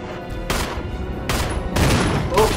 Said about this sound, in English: Shot it in the nether regions with my shotgun.